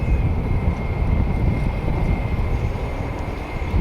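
Avro Vulcan jet bomber in a flying display at RIAT, a loud, steady, rumbling jet roar with a sustained whine, heard alone.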